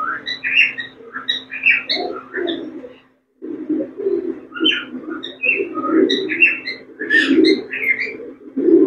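Pigeons cooing and calling steadily close by during vaccination handling, with overlapping soft coos and brief chirps, a short pause midway, and no speech.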